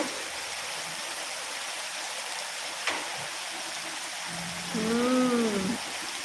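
Heavy rain pours down steadily during a hailstorm, a dense continuous hiss that fills the whole stretch, with a brief tap partway through and a short voice rising above it near the end.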